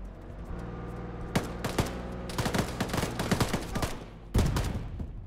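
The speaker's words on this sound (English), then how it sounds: "they're just shooting through walls" Video game gunfire shooting through building walls, bursts of rapid automatic shots, some close and loud, over a steady low engine-like rumble.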